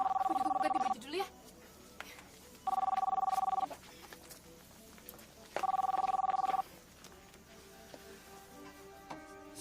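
Telephone ringing indoors in a domestic drama scene, three evenly spaced electronic ring bursts of about a second each, moderately loud, with faint background sounds and voices in the gaps.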